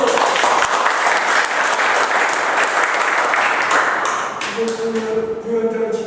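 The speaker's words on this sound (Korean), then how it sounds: "박수!" An audience at a KB Kookmin Bank labor union extraordinary general meeting applauds, with loud, sustained clapping that thins toward the end as a tonal hum or voice rises beneath it.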